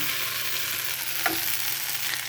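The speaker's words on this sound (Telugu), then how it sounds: "ఇప్పుడు ఇందులో ఈ బెండకాయ ముక్కలు వేసేసుకుందాం" Okra pieces tipped into a hot pan of sizzling tempering with curry leaves, a steady frying hiss throughout with a brief sharper burst as the pieces land.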